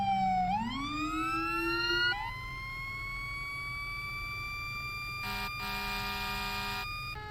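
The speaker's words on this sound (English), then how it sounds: "Man, I love the sound of a howler." An emergency vehicle's howler siren drops low and sweeps upward into a long sustained tone, loud and near, with a brief buzzing horn blast near the end and no voices.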